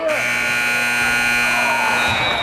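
A harsh, loud game-end buzzer sounds continuously for about two seconds at a junior varsity boys' basketball game in a gym, with crowd noise and a commentator underneath.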